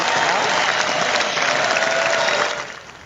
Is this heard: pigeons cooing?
no